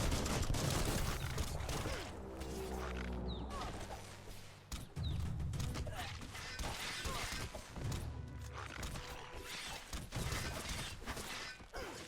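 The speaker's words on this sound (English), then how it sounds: "Bullets everywhere." Gunfire in the Biomutant action game, dense bursts of shots mixed with crashes and impacts, loud and continuous throughout, with brief sounds of speech in between.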